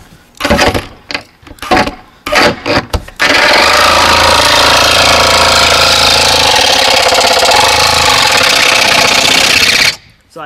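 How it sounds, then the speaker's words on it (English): A reciprocating saw cuts through the roof of a Forest River pop-up camper tent trailer, starting with a few short, choppy bursts and then settling into a loud, continuous buzzing cut that lasts about seven seconds before stopping. "we're going to saw front to back until we can just feel our reciprocating saw blade contact them"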